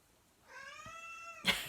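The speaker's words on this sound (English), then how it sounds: "I'm going to open the door because Minnie is crying." A cat cries at a door to be let in, giving one drawn-out rising meow. It is close and fairly quiet, and a brief knock or rustle follows it.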